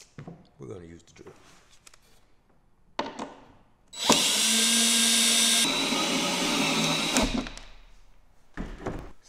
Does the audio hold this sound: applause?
no